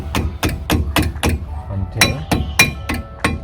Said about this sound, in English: take a hammer and slightly tap it in, like so